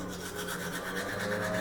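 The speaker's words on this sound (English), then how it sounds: "Not them deciding that they just want to start lawn mowing right now or leaf blowing." Lawn mowing or leaf blowing next door, heard outside a bathroom window: a steady, droning motor with a constant hum that runs on unbroken.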